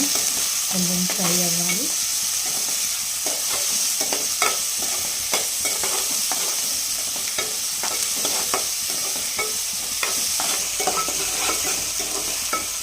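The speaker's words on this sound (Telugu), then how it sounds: "ఇవన్నీ ఉల్లిపాయలు వేగుతున్నాయి" Onions sizzle steadily in a hot pan for mutton curry, with repeated scraping stirs of a utensil against the pan throughout and a brief tonal sound near the start.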